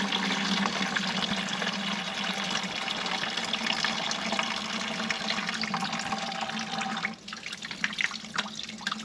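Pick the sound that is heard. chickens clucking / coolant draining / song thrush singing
coolant draining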